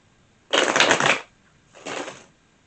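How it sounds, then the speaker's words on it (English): Two bursts of tarot cards being shuffled, a longer riffle followed by a shorter, softer one after a brief pause, close and clear with no talking. "Let me give it another shuffle."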